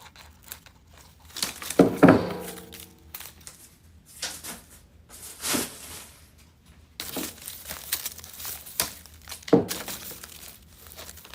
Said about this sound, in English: So let me snip these off.